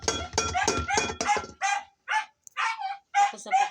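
A hungry pet dog named Chuba barks in short, loud bursts after a stretch of talking, several separate yelps and barks spaced close together.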